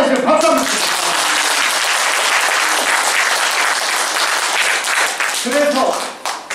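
Audience at a presidential election campaign rally applauding, loud sustained clapping throughout with brief bursts of a voice near the start and end.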